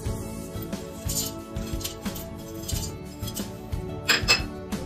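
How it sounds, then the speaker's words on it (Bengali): Whole spices including broken nutmeg being tossed in a hot wok for Basanti pulao, giving repeated light metallic clinks and scrapes of utensil against pan, fairly close and steady with no talk. "এবার গরম কড়াইতে গোটা গরম মশলাগুলো একটু ভেজে নেব।"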